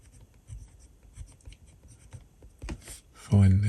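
A fine-nib Majohn fountain pen writes on paper in a Talens sketchbook with Diamine Teal ink, giving soft, close scratchy strokes in short bursts, and a louder bump of handling noise comes near the end.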